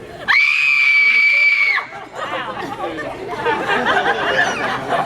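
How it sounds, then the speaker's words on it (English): A child lets out one long, loud, sustained scream lasting over a second, followed by a busy mix of other children shouting and chattering at close range. "Let's hear that scream."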